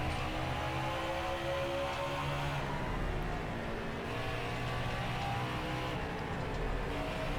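Race car engines in NASCAR Heat 5 at Bristol drone steadily throughout, a dense pack of stock cars held at high revs as one gasses it mid-corner, loud and continuous with no talk.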